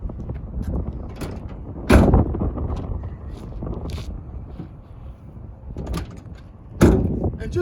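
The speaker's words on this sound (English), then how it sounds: "the ramp is stowed, the doors are closed" A WM Systems swivel loading ramp stows and the rear doors of a Ford Transit AWD high-roof cargo van shut, giving two heavy slamming thuds several seconds apart amid mechanical rattles, wind noise and a speaking voice.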